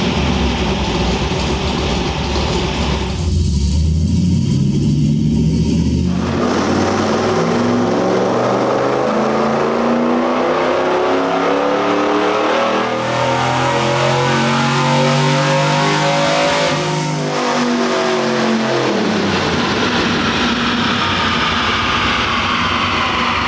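Built 289 V8 in a 1965 K-Code Ford Mustang revving on a chassis dyno in 4th gear, a loud sustained pull climbing steadily in pitch over about twenty seconds, then backing off as the rollers spin down.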